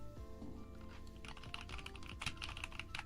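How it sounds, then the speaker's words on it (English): Clacky computer keyboard typed in quick, uneven bursts close to the mic in a basement setting, with key clatter getting busier and denser toward the end over a low room hum. "I got the clacky keys."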